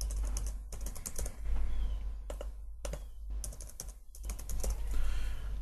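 A password is typed on a computer keyboard: quick bursts of close, crisp key taps with short pauses between the runs, over a low steady hum.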